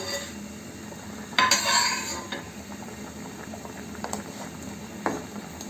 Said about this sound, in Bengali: ফুটে উঠেছে, এবার আমি মাছ এবং আলুগুলো দিয়ে দিচ্ছি এক এক করে।